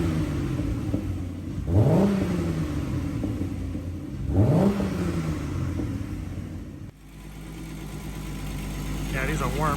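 A VR6 turbo car engine warming up after an oil cooler install gives two distinct revs that rise and fall back to a steady idle, close by, with people talking over it.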